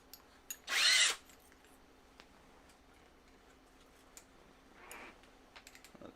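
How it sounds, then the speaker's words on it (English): A drill bit whirs through a plastic part, widening holes for heat-set inserts during assembly of a V2.4 3D printer gantry; one loud burst of about half a second, then a fainter, shorter second pass with light clicks around it. "I'm going to do the same thing I did before with this drill bit because my heat sets are too large."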